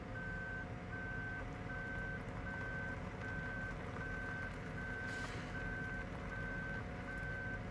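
A tractor in Farming Simulator 17 backs up with a regular, evenly spaced reversing beep repeating about a dozen times over a constant engine drone.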